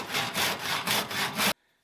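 A handsaw cuts through wood in about five strong, rhythmic strokes, close and loud, and then stops abruptly.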